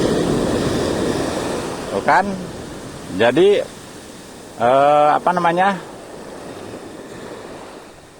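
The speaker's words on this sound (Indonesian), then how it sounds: "ini ombak yang terakhir tuh kan" Ocean surf rolls onto the beach at Legon Pari as a steady broad wash with wind noise, while someone speaks Indonesian close to the microphone over it in short phrases.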